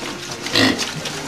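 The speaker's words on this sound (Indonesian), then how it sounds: "pakan yang diberikan langsung diserbu oleh satu peranakan anakan babi yang berjumlah 11 ekor ini" A litter of eleven piglets rushes at freshly given feed on a pig farm, giving a short burst of grunting and squealing with a louder swell midway.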